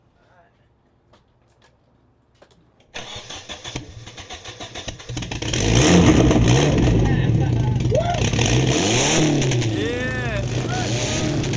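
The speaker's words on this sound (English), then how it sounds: "we got the engine started" A car engine with no muffler attached cranks and catches, then revs loudly and raw with a harsh, unmuffled roar that swells and holds, while people talk and cheer nearby.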